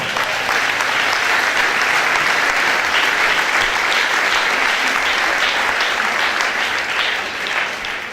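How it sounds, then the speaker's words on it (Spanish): A church congregation gives a loud, continuous round of applause for the Lord during a sermon, many hands clapping in a thick, even wash that holds steady throughout. "Dale un aplauso al Señor"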